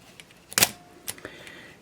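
A Pentax ME Super 35mm film camera fires its shutter with a sharp mechanical click, followed by a couple of smaller clicks and whirs from the film advance, close up and alone.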